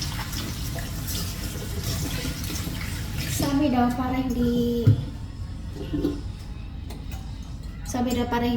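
Running tap water pours steadily over an onion being washed in a kitchen sink, with a brief voice mid-way and small splashes and drips.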